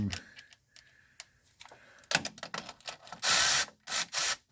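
Wrench tightening starter bolts on a Chrysler 300, a string of close ratcheting clicks and metallic taps building to a few louder, harsher bursts near the end, with no talk.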